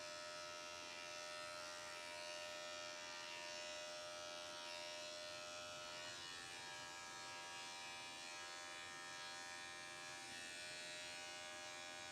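An electric dog grooming clipper runs continuously and steadily close by, buzzing as its blade works against thick matted fur with no let-up.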